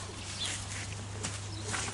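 Doves on a small farm at morning feeding time, their soft calls faint and low against a steady background hum, with no talking.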